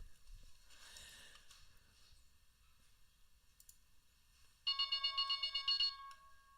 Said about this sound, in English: That was a nice bell.